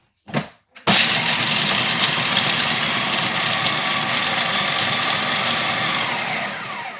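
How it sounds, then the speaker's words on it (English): An old blender whirs on loudly and steadily after a couple of brief starts, blending red pesto, a high, buzzing drone that holds for several seconds before easing slightly at the end. "you just chuck them in your blender"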